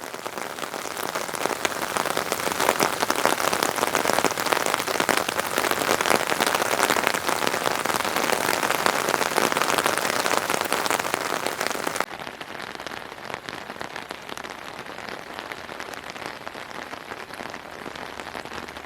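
Heavy rain pours down outdoors, drumming loudly and steadily on surfaces. The downpour drops to a softer but still continuous patter for the last few seconds.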